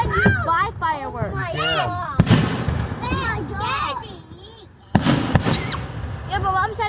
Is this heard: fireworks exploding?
yes